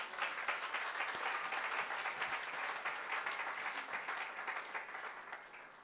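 A church congregation at a Sunday worship service applauds in steady, dense clapping that holds for several seconds and eases slightly at the close.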